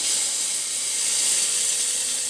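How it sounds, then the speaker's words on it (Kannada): Hot mustard and cumin tempering hitting a dish with a loud, continuous hiss and sizzle, close and steady throughout with no voices. "ಒಗ್ಗರಣೆ ಸೊಪ್ಪಿನ ಜೊತೆಗೆ ಒಂದು ಒಗ್ಗರಣೆಯನ್ನು ಕೊಟ್ಟರೆ"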